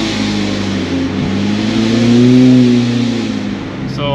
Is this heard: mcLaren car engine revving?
yes